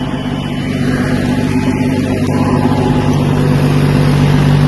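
A tractor fitted with a banana rotavator runs steadily on a banana farm, a loud, close, continuous engine drone with a low throbbing hum and no pauses.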